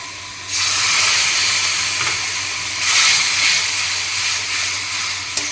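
A ginger, garlic and green chilli masala fries in a pan after a splash of water, giving a steady loud hiss and steam that swells and eases over several seconds.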